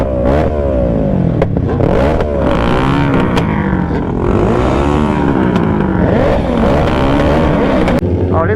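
Motorbikes rev and accelerate during a street wheelie ride-out, loud rising and falling engine whines overlapping continuously from several bikes nearby.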